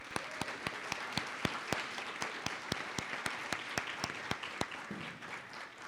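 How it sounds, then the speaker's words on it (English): An audience at an evening event applauds student award winners, many hands clapping in a steady, sustained patter with sharp individual claps standing out, moderately close and without voices over it. "Please join me in another round of applause for our Student Voices winners."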